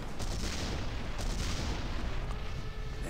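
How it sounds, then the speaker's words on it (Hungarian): Tank being blown up in the video game Mortyr 3, a dense roar of explosive rumble and crackling debris that stays loud and continuous throughout, with no voices. "Ezt robbantsuk fel a tankot is"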